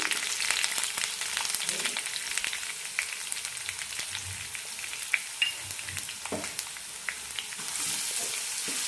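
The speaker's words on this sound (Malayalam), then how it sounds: "ഇനി ഇതിലേക്ക് ചുവന്നമുളക് ഇടാം മുറിച്ച് കറിവേപ്പില ചതച്ച വെളുത്തുള്ളി" Red chillies, curry leaves and crushed garlic fry in hot oil for a raw mango pickle, giving a steady close sizzle with scattered crackles and pops and occasional stirring scrapes throughout.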